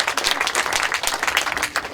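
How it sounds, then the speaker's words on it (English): A small group gives a round of applause for a boat owner, a dense burst of hand clapping lasting a couple of seconds at moderate volume, with no talk over it. "Round of applause for Hamish for allowing us to use his boat today."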